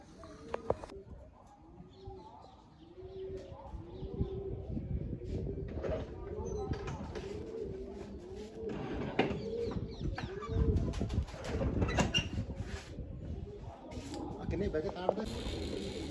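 Released pigeons at a home coo in soft, repeated low calls, with occasional rustling bursts throughout, while people talk over them.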